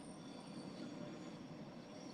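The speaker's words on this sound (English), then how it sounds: "hold on. Let the train pass." A long train rolls past outdoors, a steady broadband rumble of wheels on rails at moderate distance with faint squeal, continuous throughout with no voices.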